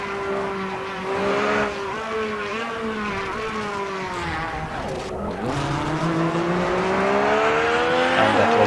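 Onboard a rally car descending a downhill stage of the Mecsek Rally, Eastern European Rally Championship: a loud, continuous engine note rising and falling through gear changes, with a brief dip and tire scrub midway, no talk.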